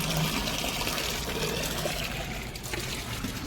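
Water poured onto potted plants, including hibiscus, on a hot day, a steady close splashing trickle that runs throughout and eases slightly near the end.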